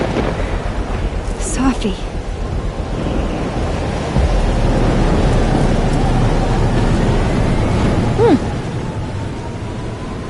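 Loud, steady rainstorm with rumbling thunder in the video game Life is Strange, a continuous wash of rain under repeated low rolls, with a voice speaking briefly over it.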